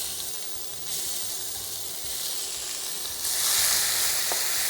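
Garlic cloves toasting in hot oil give a steady, close sizzle and hiss that swells louder toward the end, with no voices over it.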